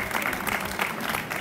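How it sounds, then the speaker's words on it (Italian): Crowd applauding for Anna at a flower-garden award ceremony in Pescasseroli, a steady, dense wash of many hands clapping throughout the short stretch. "Un applauso e grazie."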